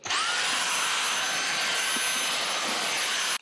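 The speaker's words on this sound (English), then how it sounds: "I live in a van and I have a Dyson vacuum cleaner" A Dyson vacuum cleaner runs steadily across the floor inside a lived-in van, a loud continuous motor whine with a high pitched tone rising at the start and then holding level, no voices over it.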